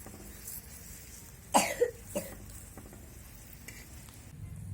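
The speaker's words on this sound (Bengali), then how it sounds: "এখন এই রুটিটা দিয়ে দেবো তেলের উপরে বাটারের উপরে রুটিটা দিয়ে দিলাম" A roti fries in butter and oil with a soft, steady sizzle. A cough cuts in sharply partway through, followed by some faint handling clatter.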